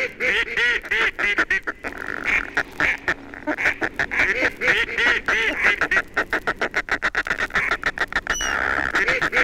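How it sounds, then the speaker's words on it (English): Gadwall and garganey ducks give dense, loud quacking calls in rapid irregular bursts, many overlapping nasal quacks close by with brief pauses, and no voices present. "Ducks call, quack gadwall, quack gargany, goosander rattle, with slow terminal flourish."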